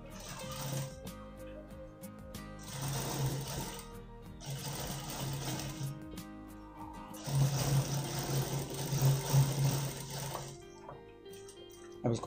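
A sewing machine stitches a double-layered blouse in bursts of rapid, close mechanical whirring, stopping and starting several times with quiet pauses between runs.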